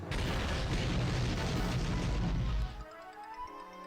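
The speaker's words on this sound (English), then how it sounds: "Fire the laser." A loud, sustained roaring blast from a laser fired in the video game Yu-Gi-Oh! The Falsebound Kingdom, lasting over two seconds before cutting off abruptly into a quieter electronic tone.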